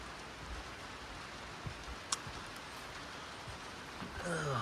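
Rain falling steadily outside an old barn where cattle are fed, a continuous broadband hiss of drops with a brief sharp tap partway through and a voice faintly starting near the end.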